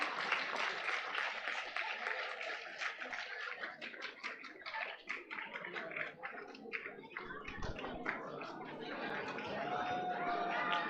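Dense, sustained applause from an audience at a student tech expo prize ceremony, many hands clapping steadily for the whole stretch, broad and crowded, with faint voices mixed in.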